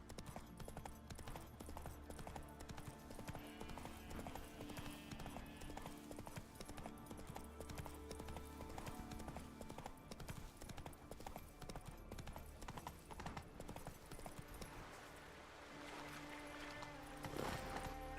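Hooves from the horse Roach gallop in The Witcher 3 video game. A fast, steady clip-clop keeps up for the whole stretch, close and clear, with a brief louder burst near the end.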